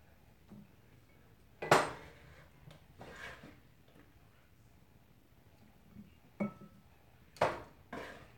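A stir fry of vegetables is tossed in a pan with a utensil on a home stove, giving a few sharp metallic clanks and scrapes spaced a second or more apart against a quiet kitchen.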